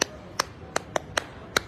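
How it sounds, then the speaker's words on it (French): Six separate, sharp hand claps spaced unevenly over under two seconds, fairly quiet against a faint background hiss. "Applaudissez pour maman Pépé."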